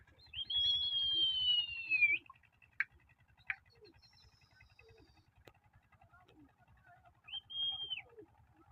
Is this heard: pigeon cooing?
yes